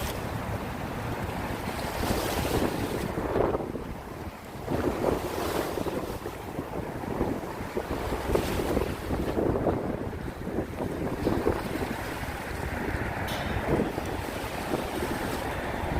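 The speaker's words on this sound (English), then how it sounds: "I don't ever know what causes these waves" Wind-driven waves lap and wash along the waterfront in New York City. Gusts buffet the microphone in uneven surges, and a few brief tonal creaks cut through near the end.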